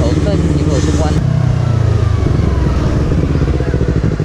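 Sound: motorcycle exhaust revving loudly

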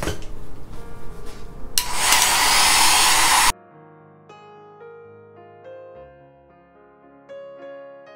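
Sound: hair dryer drying watercolor paint

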